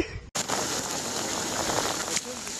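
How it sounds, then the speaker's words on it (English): Heavy rain pours down in a dense, steady hiss after a brief cut at the start, continuing evenly to the end. "It's chucking it down with rain."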